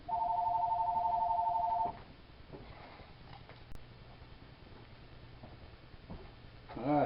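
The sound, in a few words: telephone ringing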